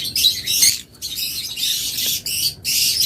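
Caged pet birds, lovebirds among them, chirp and squawk in a dense, continuous flock chatter that comes in loud bursts with brief lulls between them.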